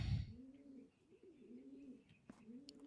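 Pigeon cooing in the video game Blue Prince, a soft rolling coo repeated in a steady rhythm after a brief loud thump at the start, with faint background tones.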